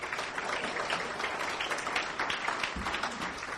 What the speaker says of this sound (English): that's worthy of an applause